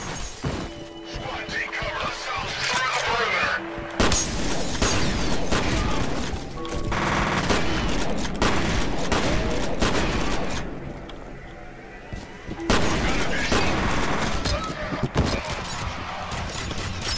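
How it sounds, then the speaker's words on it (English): Gunfire from shooting enemies in the PC shooter F.E.A.R., a dense, loud barrage of rapid shots mixed with crashing impacts and shattering debris, continuous for most of the stretch with only brief lulls. "I'm shooting everybody and not just running past them"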